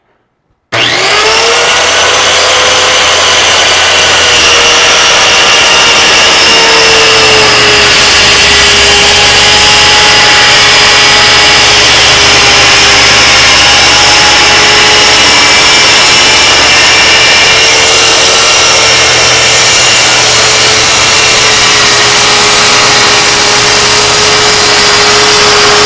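A power saw cuts wood for the side walls of a small camping trailer, a loud continuous whining drone that starts abruptly and runs steadily for the whole stretch, close up, with no talk.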